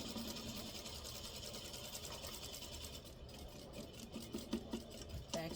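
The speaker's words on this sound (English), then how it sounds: "Back stitch. I'm going to sew over my pins." A sewing machine back stitches over pins as a steady mechanical whir with a rapid needle clatter. It runs continuously and fairly quietly, with a few small clicks near the end.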